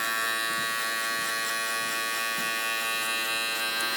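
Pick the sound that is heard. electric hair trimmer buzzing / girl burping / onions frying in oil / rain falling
electric hair trimmer buzzing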